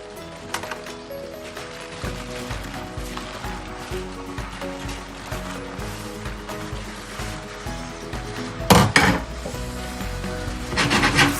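Fried cauliflower stirred into bubbling Manchurian sauce in a pan, close, continuous scraping and rubbing strokes over a low sizzle, with a louder clatter near the end.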